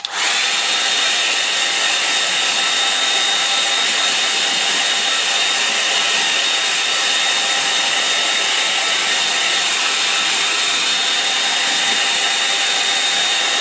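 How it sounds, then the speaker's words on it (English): A hair dryer blowing on a freshly made painting of autumn rocks, a loud continuous steady whoosh with a constant whine that runs without a break from start to end. "I'm going to dry it off with the hairdryer"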